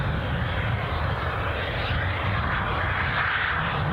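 A British Airways airliner at Edinburgh Airport rumbles steadily with a broad, continuous engine roar, moderately close and even in loudness throughout, with no voices.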